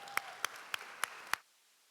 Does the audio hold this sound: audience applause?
yes